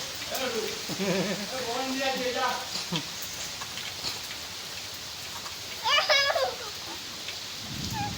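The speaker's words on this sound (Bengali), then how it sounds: "তারপরে স্বস্তির বৃষ্টি হ্যাঁ আর বৃষ্টি পেয়ে" Steady rain hiss fills the background while children's voices chatter and shout over it, with a brief burst of livelier voices near the end.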